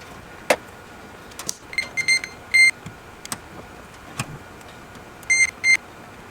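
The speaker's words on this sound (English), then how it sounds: "I'm going to check continuity between these wires and see how they match up with the resistor" A continuity tester chirps in short, irregular beeps, some single and some in quick pairs, while probing wires on a Datsun 240Z, with faint clicks of the probes between them.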